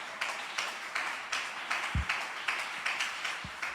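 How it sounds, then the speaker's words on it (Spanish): A church congregation applauds in rhythmic unison, steady claps about three per second over a few seconds, moderately loud with a roomy echo. "Si lo va a aplaudir, apláudalo con el alma en esta"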